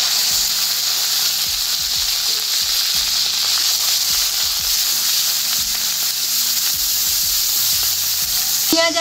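Onion and garlic paste frying in oil with cumin and bay leaf, a loud continuous sizzle and hiss close by, with low rhythmic knocks of stirring underneath throughout.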